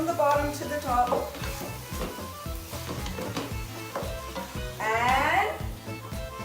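Aubergine stirred in a hot pan for ratatouille, a steady close sizzle and frying hiss with scraping stirs running throughout, and a voice briefly rising over it near the end.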